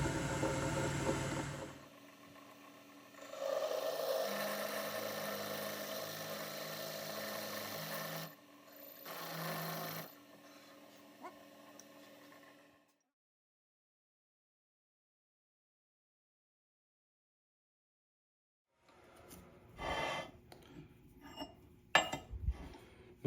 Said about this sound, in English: I have to tap this, so I got to get the tap.